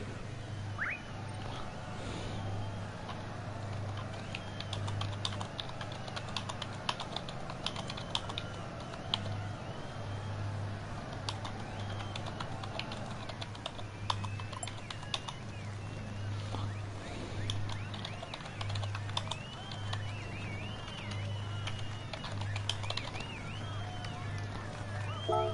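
Steady clicking of a computer keyboard being typed on during a GT3 sim racing league broadcast, soft and close, with a low engine hum and faint talk underneath.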